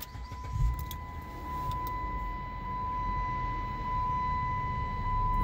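A car fitted with a remote battery disconnect switch cranks and catches, settling into a steady low idle with a faint electrical whine running throughout, heard fairly close.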